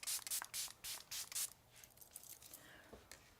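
Milani setting spray mists onto a face in five quick, close bursts, each a short airy hiss, followed by fainter rustling and handling noises.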